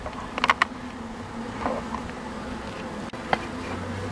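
Honeybees buzz softly and continuously near the hive, with a few brief clicks and knocks scattered through the drone.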